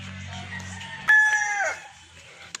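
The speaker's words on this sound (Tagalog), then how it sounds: "So ayan yung sisiw. Ayan, nasa loob, ang dami niyan." Chickens and chicks in a game farm pen, with one loud rooster crow rising over a steady low hum and a faint chick peep, close by.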